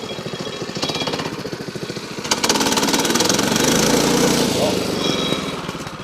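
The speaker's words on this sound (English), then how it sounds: "Now this engine likes sometimes to choke the, well, just the right temperature, I guess." The small engine of a Frontier OS18 portable sawmill runs close by, its rapid knocking pulse loud and steady, rising into a fuller roar midway as someone speaks briefly over it.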